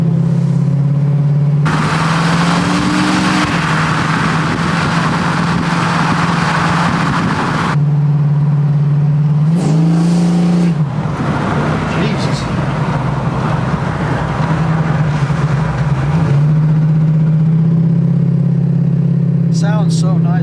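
Engine of a freshly rebuilt Ford Mustang convertible on the road, a loud steady mid-pitched drone that swells and shifts as it revs and changes gear, with people talking over it.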